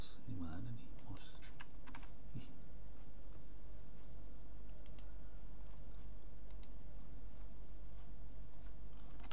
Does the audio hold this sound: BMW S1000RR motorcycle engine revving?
no